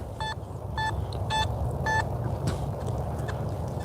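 An SP24 coil on a metal detector sounds four short, bright, evenly spaced electronic signal tones over a faint outdoor background, each lasting about a quarter second, followed by quieter faint chirps.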